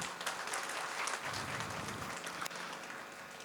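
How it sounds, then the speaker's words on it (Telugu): A hall of attendees at a birth anniversary memorial gathering for film director Dasari Narayana Rao applauds in a steady, fairly distant wash of clapping that holds evenly for a few seconds. "మన దర్శకుల సంఘం సభ్యులందరూ కూడా చప్పట్లు కొట్టాలి దానికి."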